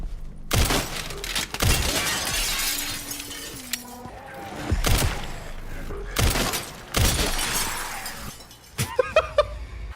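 Glass panes shattering under gunfire in a horror video game, several sharp crashes and bursts of breaking glass with thuds and scattered tinkling debris in between.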